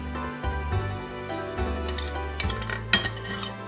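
A spoon adds crushed red chilli and ground coriander to a cooking pot for keema matar, giving a few soft metallic taps and scrapes over a low, steady tonal hum, with no voices.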